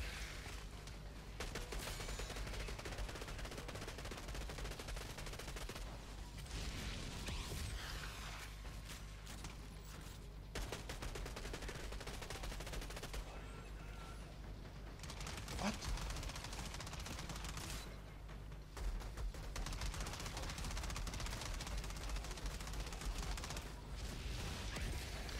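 Enemy electric pistols firing in Outriders during a desert fight, dense crackling gunfire with mechanical clicks and creaks running almost nonstop, pausing briefly a few times.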